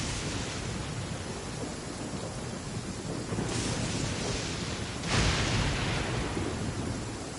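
Steady rain hiss from a video game storm, with a deep rumble of thunder swelling near 3.5 seconds and a louder crack around 5 seconds, continuous and fairly close with no voices.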